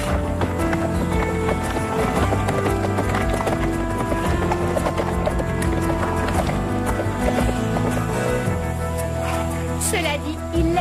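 Horses gallop in an animated riding series, their hooves clip-clopping in a steady, driving rhythm beneath a loud, continuous musical score that runs throughout.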